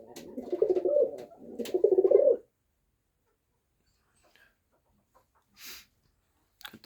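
Two low, throaty pigeon coos sound close by, then near silence with a faint rustle.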